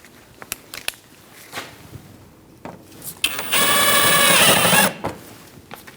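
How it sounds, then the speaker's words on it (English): A power tool, likely an impact driver or drill, tightens a bolt on the front side marker light of a 2006-2011 Chevrolet HHR, giving a loud continuous whir of about a second and a half after several light clicks and taps. "Let's tighten up that bolt."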